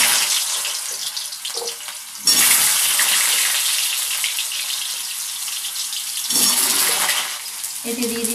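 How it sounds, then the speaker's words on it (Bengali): Sliced potatoes fry in a very hot pan, giving a steady, loud broadband sizzle that rises sharply partway through and swells again near the end, with no other prominent sounds. "আলুগুলো ভেজে কড়া ভীষণ গরম হয়ে গেছে"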